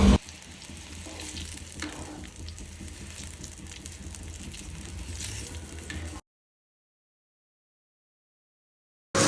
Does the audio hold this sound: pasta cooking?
yes